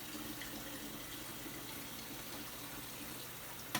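Filtered water runs steadily into an apple juice jar, a soft continuous trickle and rush that ends with a brief clunk.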